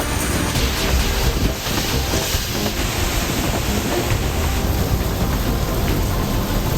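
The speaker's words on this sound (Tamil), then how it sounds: "கனமழை கொட்டி தீர்த்தது." Heavy rain pours steadily during an unusual desert storm in the United Arab Emirates, a loud, dense, unbroken roar with low rumbling thunder and wind buffeting throughout.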